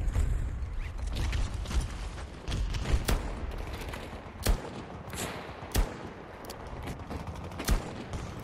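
Revolver reloading in Battlefield 2042 with a western gunslinger loadout, heard as dense game noise: mechanical clicks and creaks with several sharp gunshot bursts spaced apart over a steady rumble, no talk.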